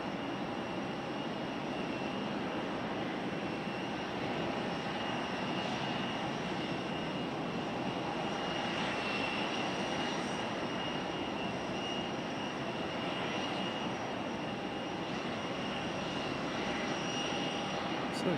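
Airliner arriving at Raleigh-Durham International Airport, a steady broadband engine roar holding at an even, moderately distant level for the whole stretch with no clear peak.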